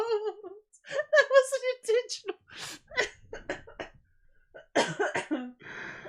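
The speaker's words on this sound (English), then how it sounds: "I had to clear my throat" Someone speaks in bursts, broken by a harsh throat-clearing cough partway through, with brief pauses between phrases.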